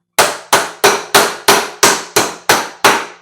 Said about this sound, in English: smack it with your hammer